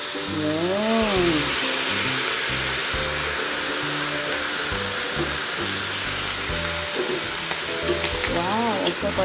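Fish bagoong sizzles loudly in a hot pan for sinampalokang gabi, a steady frying hiss broken by scraping stirs, with a faint background tone running underneath throughout.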